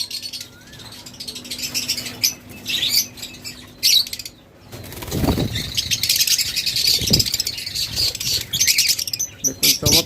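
Pet lovebirds, budgerigars and cockatiels in a bird shop chirp and squawk in busy, overlapping bursts, with a couple of louder knocks partway through.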